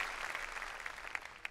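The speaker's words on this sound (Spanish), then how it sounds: "demos un aplauso a Dios por la diversidad" A church congregation applauds, a brief, fairly faint wash of clapping with a few sharper claps standing out, no voices over it.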